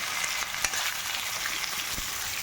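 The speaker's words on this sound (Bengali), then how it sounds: "পেঁয়াজটা একটু ভেজে আমি তুলে নিচ্ছি" Onion frying in a pan for a chicken kosha dish, a steady close hiss of oil sizzling throughout with a couple of brief stirring knocks, no talking.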